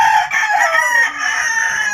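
A breeding rooster on a gamefowl farm lets out one loud, close, drawn-out crow that fills about two seconds, with no voices.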